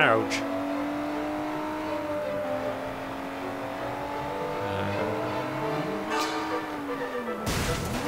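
Sleeping Dogs video game street race: loud, steady car engines drone and shift pitch throughout, with a burst of revving near the end, under occasional talk.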